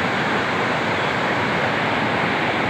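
River water in Manali rushes in a dense, constant broadband roar, loud and close, with no voices or breaks.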